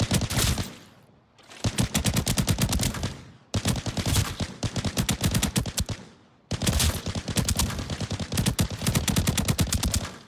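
Rapid automatic rifle fire from the video game Arena Breakout Infinite, loud close bursts of evenly spaced shots separated by short pauses, with no talking.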